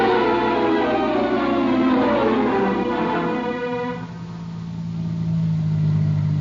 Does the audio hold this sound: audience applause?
no